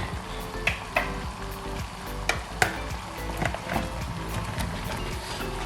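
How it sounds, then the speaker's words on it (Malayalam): Butter chicken gravy sizzles steadily in the pan while pre-fried chicken pieces drop in, each landing a short sharp knock or clatter over the continuous frying hiss, close and fairly loud without any talk. "ഈ ഒരു സമയത്ത് നമ്മൾ നേരത്തെ ഫ്രൈ ചെയ്ത് വെച്ചിട്ടുള്ള ചിക്കൻ്റെ പീസുകൾ നമുക്ക് ഇതിലേക്ക് ഇട്ട് കൊടുക്കാം"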